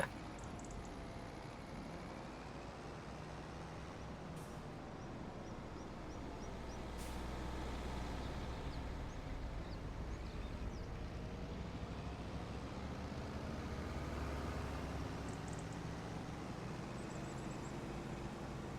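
Tractor in Farming Simulator 25 driving along a road, a steady low engine drone with rolling rumble that swells slightly louder in the second half, with no talk over it.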